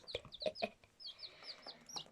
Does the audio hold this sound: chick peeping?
yes